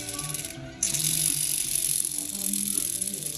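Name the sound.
humming bearing in Toyota Vellfire CVT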